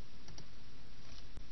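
Several light mouse clicks while working in a presentation program, short and dry, sounding close with faint room noise behind them.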